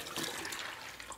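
Water pours steadily into a pot while coated groundnuts are being made, a soft continuous splashing rush that is faint and close with no talk over it.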